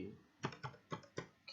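Computer keyboard typing on a username field, five or six quiet, close key clicks spaced irregularly over a second and a half, alone without talk.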